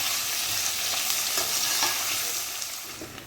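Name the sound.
frying in pan for mutton curry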